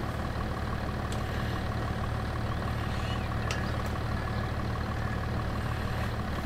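A steady, continuous tractor engine drone from Farming Simulator 22, loud and unchanging throughout, with a few faint clicks over the constant rumble.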